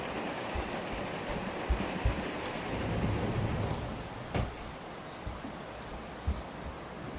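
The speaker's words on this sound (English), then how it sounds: "it's raining and it's noisy." Steady rain hisses continuously, with a few soft thumps and one sharp knock partway through; no one speaks.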